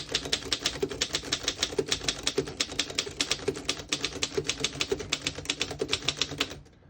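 A 1918 Underwood No.3 antique desktop typewriter is typed on at a steady quick rhythm, each keystroke a crisp close clack in a long even run that stops near the end.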